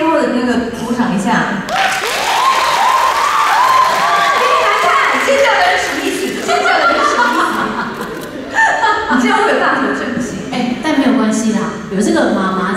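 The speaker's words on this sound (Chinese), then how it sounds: "觉得她是天后的那个，鼓掌一下。" Loud audience applause on a Taiwanese talk show featuring Little S, dense sustained clapping mixed with chuckles, laughter and crowd murmur over about thirteen seconds, with voices talking throughout.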